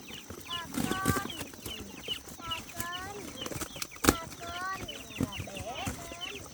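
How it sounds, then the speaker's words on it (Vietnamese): Chickens and small chicks clucking and peeping at close range in a rural farmyard pen as they are let in, the calls coming in frequent short overlapping bursts with faint scuffling underneath. "Chắc gà bé cũng thả chung vào đây thôi bà nhỉ?"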